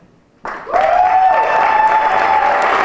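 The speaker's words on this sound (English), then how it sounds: "They deserve a round of applause for their service" Audience at a 2020 City of Lawrence inauguration ceremony breaks into applause for outgoing officials, rising quickly from near silence into steady, close, full clapping with a sustained tonal hum underneath.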